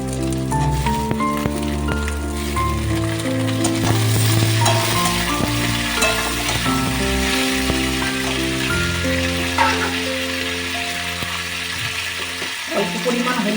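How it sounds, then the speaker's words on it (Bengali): Chopped tomatoes go into softened onions frying in a pan for paneer butter masala, producing a steady, fairly loud sizzle that runs throughout beneath background music. "এরপর আমি এর মধ্যে টমেটো কুচিগুলো দিয়ে দেবো"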